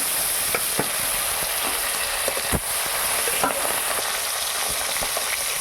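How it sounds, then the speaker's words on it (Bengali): Snakehead fish pieces frying in hot oil produce a loud, continuous sizzle. Frequent sharp pops and spatters break through it, close up. "আবারও আমি ওই একই তেলে বাকি মাছগুলো ভেজে নেব।"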